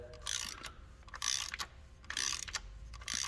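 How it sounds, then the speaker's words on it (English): Ferrari 360 timing belt tensioner being ratcheted to retract its pulley, giving repeated bursts of close metallic clicking in steady strokes with short pauses between them. "rotating this clockwise, and that should pull this pulley back"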